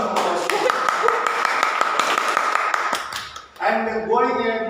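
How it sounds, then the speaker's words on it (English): A Toastmasters club audience gives a round of applause, with sharp scattered claps over a sustained tone for about three seconds, then fading as a voice starts speaking. "good round of applause"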